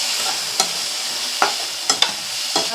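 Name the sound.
spices (turmeric, chili, cumin, coriander powder) being sautéed in a pan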